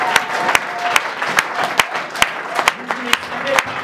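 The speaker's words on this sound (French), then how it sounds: "Let us clap for the King of Kings." A congregation at a church worship service claps together in loud, sharp bursts, individual claps ringing out roughly every half second over a steady crowd murmur, with voices talking and calling out beneath the applause.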